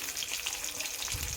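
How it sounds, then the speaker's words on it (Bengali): Pieces of rohu fish fry in hot oil for a fish curry, giving a steady, close crackling sizzle with dense high spatter and no talk throughout. "মাছগুলোকেও ভেজে নিচ্ছি।"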